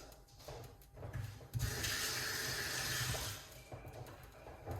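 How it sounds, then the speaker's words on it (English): Hot water runs from a kitchen tap during onion tea preparation, a steady close rush lasting a couple of seconds, with softer trickling and faint handling noises before and after. "1 cup of hot water."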